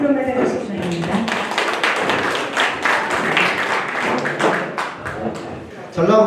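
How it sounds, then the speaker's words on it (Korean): Audience applause at a small business owners' network workshop greets a speaker coming up to give a welcome address, dense clapping mixed with talking voices, cutting off abruptly near the end. "여러분 큰 박수로 맞아주시기 바랍니다."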